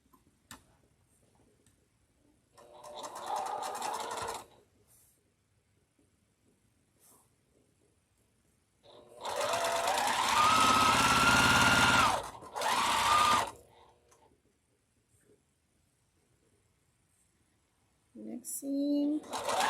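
A sewing machine stitching a quilt block seam in short bursts, a rapid, close mechanical whir-tick that starts and stops, separated by quiet pauses.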